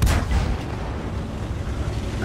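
A tank cannon fires in World of Tanks, one heavy booming shot at the very start followed by a long rumbling decay with steady engine drone underneath.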